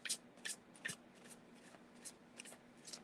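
A deck of playing cards being shuffled in repeated quick riffles and bridges, soft and close with brief bursts and pauses between them, no talking.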